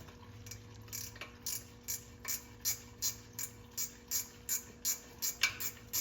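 Steady ratchet wrench clicks while loosening a fastener on a John Deere 425 lawn tractor during fluid draining, about a dozen evenly spaced ratcheting strokes, close and fairly quiet over a faint background hum.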